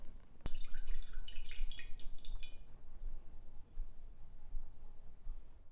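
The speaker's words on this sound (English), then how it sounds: "Add a little hot water to dissolve the borax." Hot water is poured into a 1-liter glass jar holding a quarter teaspoon of borax, giving a brief close trickle and splash in the first few seconds before it fades to quiet room noise.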